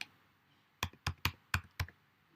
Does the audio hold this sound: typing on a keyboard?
yes